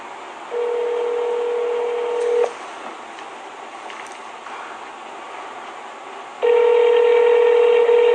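A telephone call being placed: two long, steady electronic phone tones, each about two seconds, separated by a few seconds of low background hiss, loud and close with no talking.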